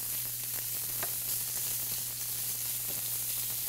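Bacon spread out in a hot pan on high heat sizzles steadily, its fat rendering with a constant broadband hiss and scattered small pops throughout.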